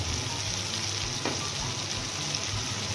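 Fried onion sizzling in a pan with tomato, salt and turmeric added, a steady bright hiss at close range with a brief scrape midway, no talking.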